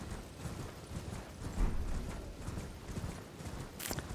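A horse gallops in the video game Elden Ring, rapid rhythmic hoofbeats pounding steadily throughout over a busy game soundscape, fairly quiet, with a brief sharp burst near the end.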